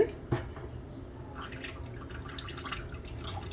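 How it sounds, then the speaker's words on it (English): Melted butter is poured into a mixing bowl for low-carb brownie batter, giving a soft, close liquid splash and trickle followed by faint dripping. "I've got a 1/3 cup of melted butter in here. So I'm just gonna drop that"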